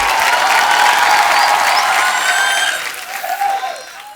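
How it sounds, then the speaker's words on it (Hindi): A studio audience at a comedy talk show greets arriving guests with loud, dense applause and cheering that holds strong, then thins and tapers off near the end, with some whistles audible in the mix. "आप सबकी जोरदार तालियों के बीच इनवाइट करना चाहूंगा the very talented Arjun Kapoor and beautiful Shraddha Kapoor"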